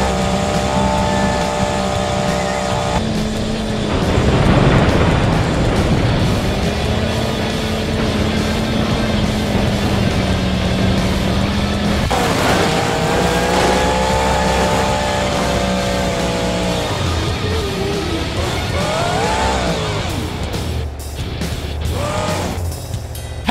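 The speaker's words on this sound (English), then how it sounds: "we've got a bonus crash with Monster Mutt Dalmatian" A Monster Mutt Dalmatian monster truck engine roars in BeamNG Drive, a loud continuous motor drone with shifting pitch and a few noisy bursts of impact and scraping.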